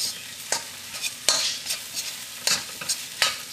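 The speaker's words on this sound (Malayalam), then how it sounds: "ഇതിലേക്ക് നമുക്ക് വേവിച്ച് വെച്ചേക്കണം ചിക്കൻ ചേർത്ത് ഇത് നന്നായിട്ടൊന്ന് മിക്സ് ചെയ്യാം" Cooked chicken and egg stirred in a hot pan for kothu chapati, with irregular scraping strokes of a spatula over a light sizzle, close and fairly loud.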